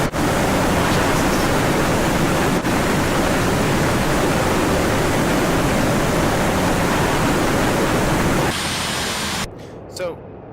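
Steady, loud broadband roar of an anti-ship missile launch and jet aircraft in the DCS AJS-37 Viggen flight simulator, filling most of the span before cutting off abruptly near the end, with a brief faint voice afterward.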